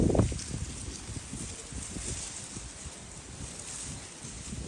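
Strong outdoor wind buffets the microphone in a continuous low roar with uneven gusty rumbles, loudest at the start and steady for several seconds, with no voices over it.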